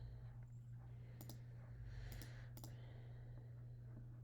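Computer keyboard keys clicking in a few quick, faint bursts over a steady low hum.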